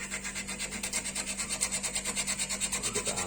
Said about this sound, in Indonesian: Jadi kita ngamplasnya ini sambil nyala kulkasnya ya